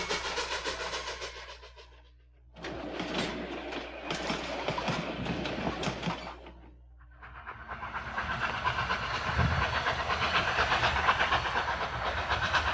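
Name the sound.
narrow gauge steam train running on mountain railroad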